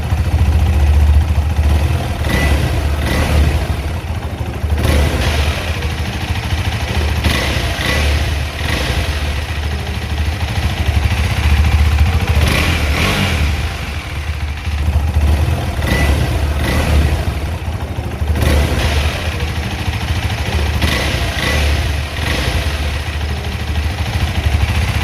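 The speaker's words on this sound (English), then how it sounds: "Now it's the time to hear the exhaust note of KTM Duke 390 Adventure." A KTM 390 Adventure motorcycle's exhaust note, loud and close, idling with a steady throb and blipped revs rising and falling several times, no talking.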